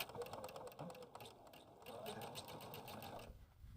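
Sewing machine stitching quilt rows together, a fast continuous needle rattle running evenly nearly four seconds before stopping near the end, close but quiet.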